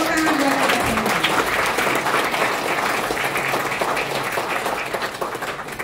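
Audience applause in a large hall at a Bank Mandiri 25th anniversary event, dense sustained clapping from a big crowd that slowly tapers in loudness over several seconds.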